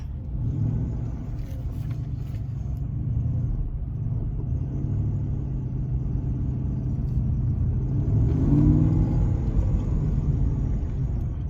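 An Aston Martin, an '08 model, drives with a steady low engine rumble and road noise throughout, swelling slightly louder near the end as it accelerates.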